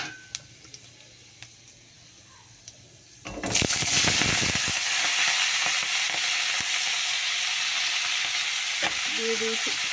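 Dried red chillies and panch phoron spices tick quietly in a wok until vegetables drop in, setting off a sudden loud burst of sizzling that keeps crackling strongly to the end.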